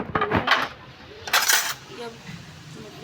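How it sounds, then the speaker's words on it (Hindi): Washed dishes and pots being picked up and stacked away in a home kitchen, giving two bursts of clattering metal and clinking, with quieter handling sounds in between and faint voices in the background. "बर्तन उठा के रखती हूँ"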